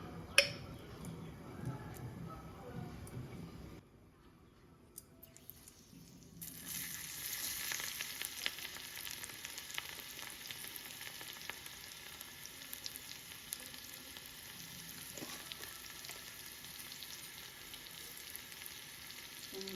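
Ghee heats in a pan for a tadka for dal palak. After a quiet stretch, a faint steady hiss of sizzling fat sets in and carries on with small crackles.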